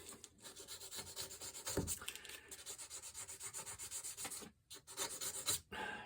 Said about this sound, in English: I'm going to sharpen this. This is just a piece of sandpaper.